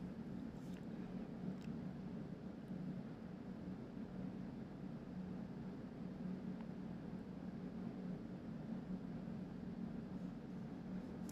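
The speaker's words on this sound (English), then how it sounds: "That's the amount of time I used my heat gun on that." A heat gun on its low setting, held some distance above a UV resin mold, gives a steady, unbroken whooshing hum that runs evenly throughout with no talk.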